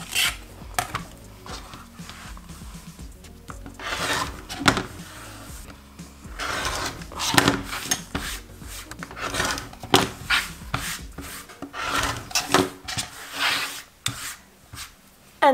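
A sewn hourglass quilt block is trimmed up close, with a steady series of short scraping cutting strokes and fabric shuffling at an uneven rhythm and no voices.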